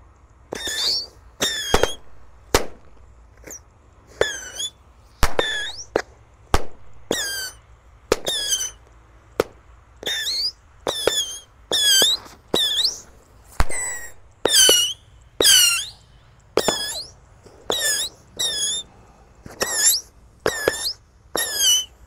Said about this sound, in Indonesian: yang kita nyalakan di dalam tanah adalah mercon misil 25 shot ya